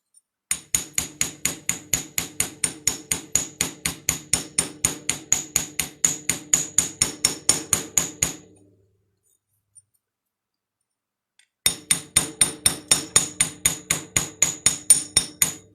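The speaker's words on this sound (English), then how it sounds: "And I'm going to get my chasing hammer." A chasing hammer strikes metal wire in a fast, steady run of sharp metallic taps, close and distinct, pausing for a few seconds before resuming at the same even pace.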